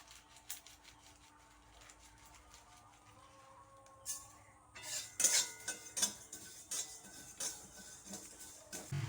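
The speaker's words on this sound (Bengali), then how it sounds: "অল্প আছে হালকা হালকা করে ভাজতে হবে আর এই যে দিয়ে দিচ্ছি মুড়ি" Puffed rice is tossed into a pan with mustard seeds and lightly fried while being stirred, making quiet utensil clinks and dry rattling scrapes that grow busier in the second half, close but soft.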